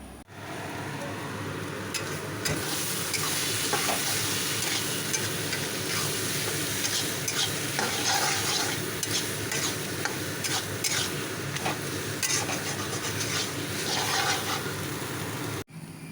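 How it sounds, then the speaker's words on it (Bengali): Cabbage bharta is stirred and dragged around a hot pan, giving a steady, close sizzle with scraping spoon strokes that continue for the whole stretch before stopping abruptly at the end. "এখন ভালো করে এটাকে টানাতে হবে এই দেখো ভর্তাটা আমার টেনে যাচ্ছে"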